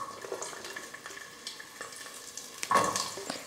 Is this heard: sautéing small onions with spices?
yes